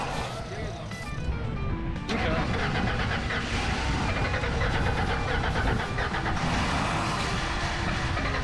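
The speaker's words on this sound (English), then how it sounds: "Hit the gas pedal." An old Ford OBS pickup truck engine rises as the gas pedal is pressed, a loud, steady roar that swells and holds close by.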